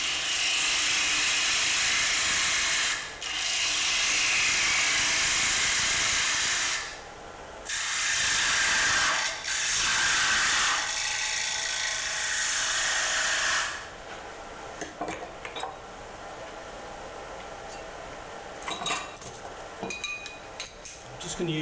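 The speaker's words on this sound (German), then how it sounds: "Zunächst werde ich bis zu diesem Punkt drechseln und die Oberfläche zum Rand hin finishen." Wood turning on a lathe while shaping a square bowl, a loud gritty scraping cut that runs in long bursts with short breaks, then falls to quieter intermittent tool contact and ticking as the work slows.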